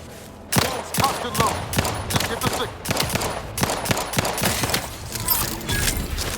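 Rapid bursts of gunfire from the Moon gun in The Outer Worlds 2 video game, sharp cracks in quick irregular succession over several seconds, loud and close.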